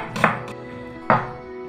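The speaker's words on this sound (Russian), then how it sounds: "половинку эту полностью нарезать полукольцами" Two crisp knife chops through an onion half being cut into half-rings on a board, evenly spaced about a second apart, close and distinct with no talking.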